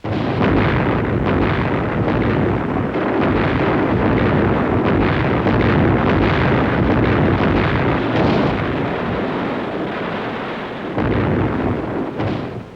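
Naval guns shell the shore during a WWII invasion, with destroyers firing rounds landward, heard as a loud, sustained roar of heavy booming blasts that stays dense and rumbling, easing slightly toward the end.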